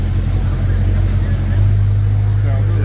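A 2023 Dodge Challenger Hellcat with its resonator deleted idles with a deep, steady exhaust growl, loud and near, holding a constant low rumble.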